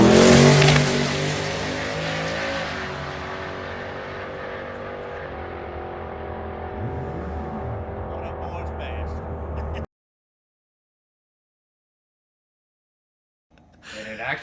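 A twin-turbo Saleen car with 17-inch Cobra wheels screams at full throttle on a dyno, a loud, sustained engine roar that holds steady for about ten seconds, then cuts off to silence before faint voices return.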